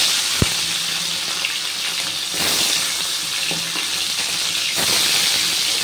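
Small bata fish slide one at a time into hot mustard oil, setting off a steady, loud, close sizzling hiss with a sharp clack near the start and surges as more fish go in.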